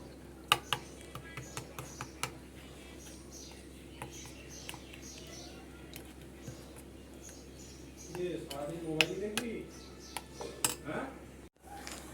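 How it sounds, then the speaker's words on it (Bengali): Yogurt batter seasoned with chili powder, cumin, coriander, salt, Kashmiri red chili and black pepper is whisked in a bowl, giving faint scattered clinks and scrapes that grow busier and louder toward the end. "এবার ভালো করে এটা ফেটিয়ে নেব।"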